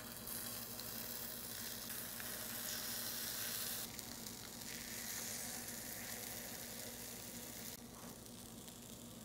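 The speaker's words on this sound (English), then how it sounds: "The corndog maker is preheated, so now we'll pipe in our batter." Corndog batter sizzles steadily in a preheated corndog maker, a close, constant hiss with a few brief shifts in intensity and no voices.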